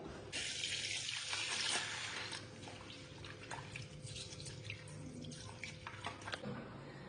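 Tap water running steadily into a sink while rice is washed, a constant broadband splashing with a few small drips and clinks, fairly close and with no voices.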